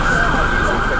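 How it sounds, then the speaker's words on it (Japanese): A loud emergency siren wails steadily, holding a high sustained tone over road noise, on a London street near Oxford Circus. "消防車や救急車やさ、 うん、 パトカーの音ってすごい音量で録音されてるね"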